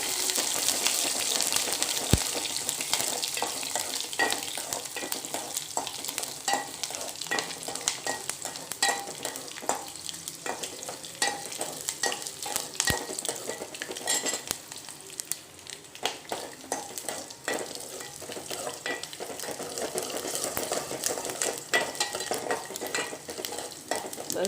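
Green chilies fry with dal in a pan over gas, giving a steady close sizzle broken by frequent scraping stirs, with no talking.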